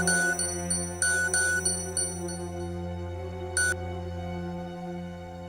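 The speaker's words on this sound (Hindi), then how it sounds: "निताशा बीबी की कॉल आ रही है।" A mobile phone ringtone for an incoming call chimes in short, repeated bright bursts over a steady, droning musical background.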